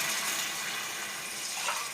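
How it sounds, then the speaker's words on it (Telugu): Water gushes into a cooking pot of drumstick biryani, a continuous bright, hissing pour that stays loud and steady from start to end with no voices. "3 గ్లాసులు వాటర్ వేసుకున్నాం"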